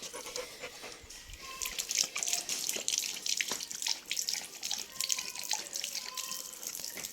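Water is poured out for a dog to drink, a steady hissing splash that runs for several seconds at moderate loudness, with faint intermittent background sounds and no talking.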